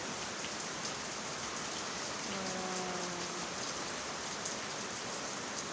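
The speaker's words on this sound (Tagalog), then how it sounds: "Habang umuulan." Steady rain falls during a typhoon, making a dense, even hiss of drops on surfaces that continues without break, with a faint brief tonal sound partway through.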